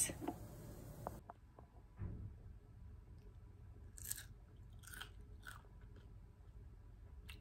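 Crispy torched bacon is bitten and chewed up close, with a few sharp crunches and bursts of crackling between quieter moments of chewing, all fairly faint.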